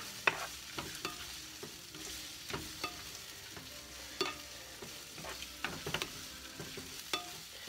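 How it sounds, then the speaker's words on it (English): Onions and peppers for a cheesesteak fry softly in a pan while a utensil scrapes and taps the surface in a steady, repeated stirring rhythm, heard close and quiet. "And so I just stir."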